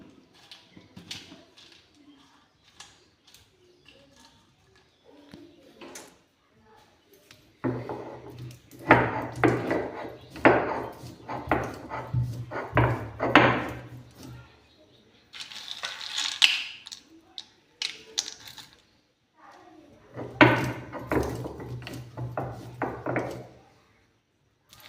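Fried ingredients being ground by hand for homemade ice cream: rhythmic scraping and pounding strokes come in clustered bursts with quiet gaps between, close and fairly loud.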